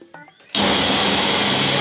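A kitchen blender kicks on loudly and grinds a spice paste of red chili, dried shrimp and raspberry oil, a steady dense whir after a few soft bumps and movements at the start.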